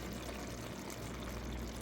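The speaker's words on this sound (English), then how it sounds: "I am going to add some flour and some water and make like a way to thicken this up, turn it into like a gravy. So I'm just going to pour that in here" Flour and water mixture poured into a pan of cooking food to thicken it into gravy, a steady soft liquid pour with low rumbling, continuous and fairly faint.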